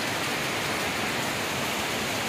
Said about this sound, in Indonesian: Hujannya kayak ngono kae ya.